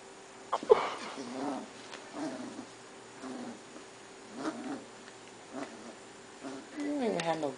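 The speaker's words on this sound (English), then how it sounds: "What you growling about?" Pit bull puppy giving several short, low growls in bursts close by, with a person speaking quietly among them.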